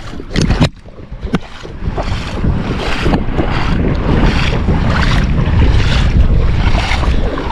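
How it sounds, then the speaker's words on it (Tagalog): Strong wind roars continuously against the microphone with heavy buffeting out on the water, alongside rushing water and boat noise. "Medyo malakas din ang hangin ngayon"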